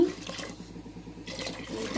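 Water pours steadily into a pot of coconut milk for brinji rice, a continuous splashing stream with a faint low hum underneath.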